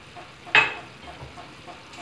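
Mixed vegetables in a pot are stirred with dried fenugreek added, giving a soft sizzle and a single sharp scrape of the spoon early on, then quieter shuffling.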